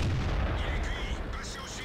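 A heavy tank cannon shot from an S35 CA in World of Tanks, a deep booming blast that rolls on for a couple of seconds, loud and close.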